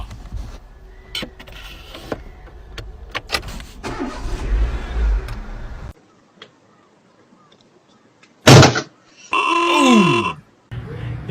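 A Toyota car engine rumbles low and steady with scattered clanks for several seconds, then drops nearly silent before sharp mechanical bursts and a sweeping whine return near the end.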